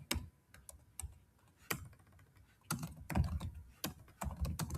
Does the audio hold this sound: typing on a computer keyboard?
yes